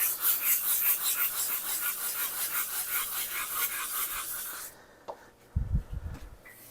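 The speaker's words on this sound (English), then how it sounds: "It has to be extremely fine grit sandpaper though." Wet sanding with extremely fine grit sandpaper and water, a steady rhythmic rubbing rasp for several seconds that stops, followed by a few soft knocks and handling sounds.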